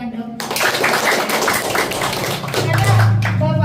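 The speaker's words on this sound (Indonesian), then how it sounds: "Tepuk tangan dong" An audience at a community learning centre gathering breaks into clapping, a close, busy patter of hands with some voices mixed in.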